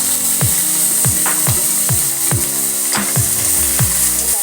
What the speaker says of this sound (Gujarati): વઘાર સરસ ગરમ થઈ જાય પછી તેમાં બધું શાકભાજી એડ કરી દઈશું.